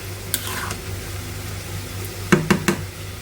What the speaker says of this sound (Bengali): মশলা দিয়ে আলুটা একটু কষিয়ে নিয়ে